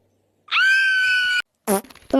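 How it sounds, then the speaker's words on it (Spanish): A child screams in the Roblox game 99 Nights in the Forest. It is a sustained high scream of about a second, followed by a short break and then a burst of rougher, lower vocal noise. "Grito del niño."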